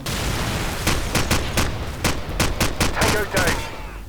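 AK rifle fire in Call of Duty 4: Modern Warfare, mission One Shot One Kill: loud, close, sharp bursts of shots crackle in quick succession over a low battlefield rumble.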